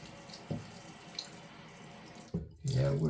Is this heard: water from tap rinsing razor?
yes